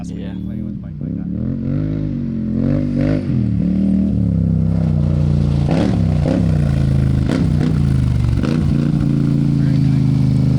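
A Polaris HighLifter 850 ATV with an aftermarket RJWC exhaust idles with a deep, loud, close rumble, then climbs through a revving swell and several quick blips, with voices talking over it.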